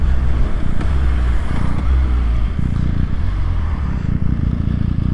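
A 2014 MV Agusta Brutale 800 motorcycle accelerating hard, its engine roaring loud and close for the full five seconds, with the pitch climbing through a few gear changes.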